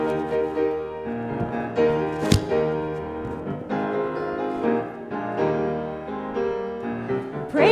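A worship choir sings a hymn refrain of praise and hallelujah in full, sustained harmony, steady and moderately loud, with one sharp percussive hit partway through.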